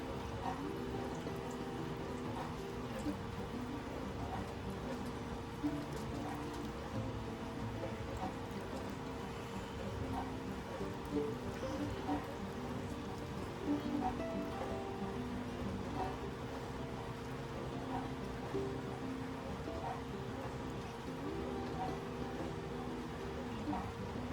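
Clarified butter poured slowly through cheesecloth into a container makes a faint, steady liquid trickle that runs on without a break under a constant low background hum.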